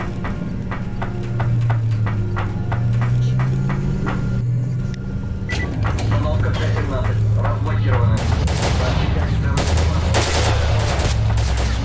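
Gunfire in the video game STALKER Narodnaya Solyanka inside Lab X-16, loud rapid shots in bursts over a low rumbling drone, growing denser and more sustained in the second half.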